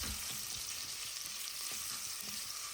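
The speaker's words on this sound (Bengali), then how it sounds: "সামান্য কয়টা রসুন দিয়ে বাগারটা দিয়ে দিলাম।" Garlic frying in a little oil at the start of a Sylheti fish-head and fish-roe tomato curry: a constant close sizzle with a few faint stirring knocks and no voices.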